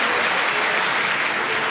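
Gallery applause during a parliamentary budget reply speech: a dense, steady wash of clapping from many hands, loud and sustained with no voices on top.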